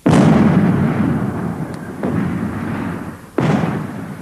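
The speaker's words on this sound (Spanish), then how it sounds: "Cuando disparas este cañón de 105 milímetros, toda la torreta se llena con la explosión." A 105 mm tank cannon fires inside the turret, giving a loud, close, booming blast that is followed by a long rumbling decay and then a second sharp report near the end.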